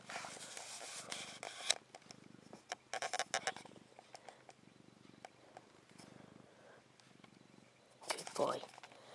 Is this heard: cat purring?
yes